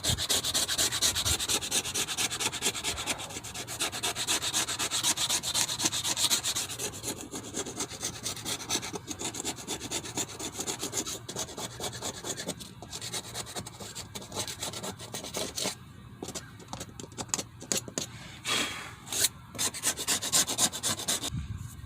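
A razor blade held at an angle scrapes old glue off a car door panel, giving a steady, close, rasping scrape that runs continuously with short pauses and tapers off toward the end.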